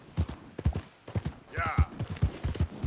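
Hooves of a tough all-rounder horse clip-clop in a steady gait in Red Dead Redemption 2, with a brief vocal or whinny-like tone rising midway through the rhythmic footfalls.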